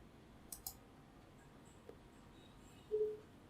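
Two quick mouse clicks close together, faint and crisp in a quiet room, followed by a brief higher chirp-like tone a few seconds later; no speech.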